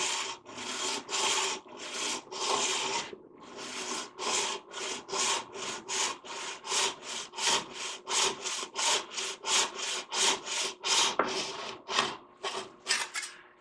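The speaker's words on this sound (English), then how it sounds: "So I just lay the saw right here against that board, so it's going to cut an angle cut" Rhythmic back-and-forth strokes of a hand saw angle-cutting a small wooden mandolin truss rod cover, close and steady, around two dozen rasping passes with brief pauses.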